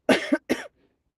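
A person gives two quick, close coughs in a row, then falls silent.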